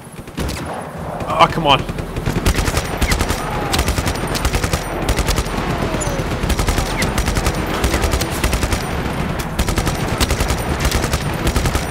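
Rapid automatic gunfire and heavy bursts from the Just Cause 3 game rattle almost continuously at close range, with a voice briefly speaking over the shooting.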